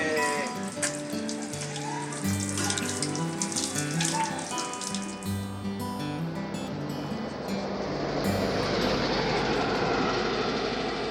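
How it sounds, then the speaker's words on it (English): Water from a hose runs and splashes continuously, rising into a steady gushing stream over the later seconds, with some tonal background sounds early on. "we'd found a hose with fresh running water."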